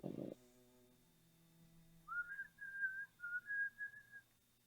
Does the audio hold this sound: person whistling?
yes